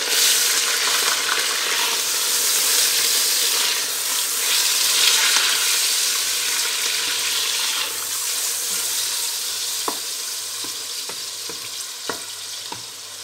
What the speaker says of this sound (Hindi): अदरक लहसुन का पेस्ट डाल के इसको अच्छी तरह भूनेंगे।